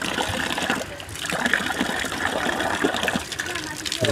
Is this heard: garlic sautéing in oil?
no